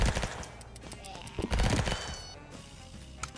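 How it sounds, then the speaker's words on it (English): A light machine gun fires in a zombies video game, with dense rapid bursts up close and a heavy volley around the middle, over busy game noise. "Looks like we got an LMG"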